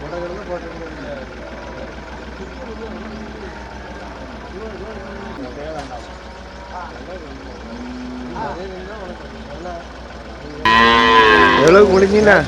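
Cattle lowing at Melapalayam cattle market, several moos rising over a busy backdrop with an idling engine and people talking, and a loud, close moo near the end.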